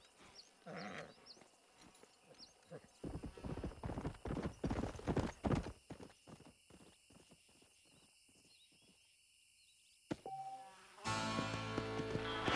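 Horse hooves clip-clop in the Red Dead Redemption video game, a steady run of close, loud hoofbeats building to a busy stretch before easing off, with game music and ambience around them.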